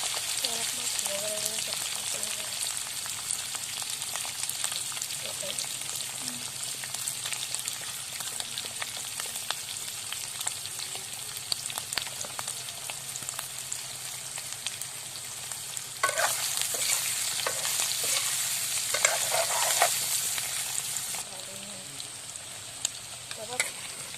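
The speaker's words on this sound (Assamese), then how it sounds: "অলপ ফ্ৰাই কৰি ল'ম।" Potatoes fry in a pan for an egg potato curry, a steady soft sizzle with crackles and occasional stirring scrapes, growing brighter and louder partway through, with faint talk in the background.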